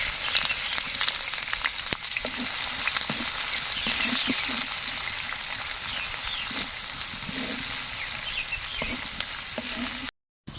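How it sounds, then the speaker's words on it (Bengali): Steady crackling sizzle of onions frying in hot oil with whole cumin seeds, close and continuous, with occasional scrapes of stirring. "পেঁয়াজটা ভাজা হয়ে গেছে"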